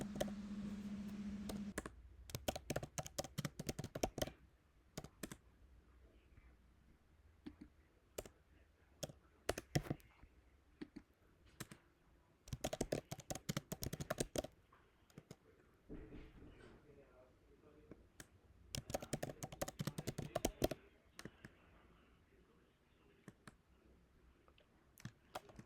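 Typing on a computer keyboard during smart contract coding, with bursts of rapid close key clicks separated by quieter pauses, while a voice talks intermittently over it.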